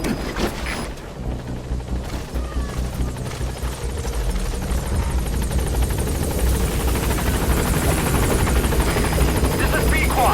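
Helicopter arriving to land in Metal Gear Solid V, its rotor thrum and turbine whine building steadily and growing louder over ten seconds, with faint gunfire-like crackle and radio chatter in the background.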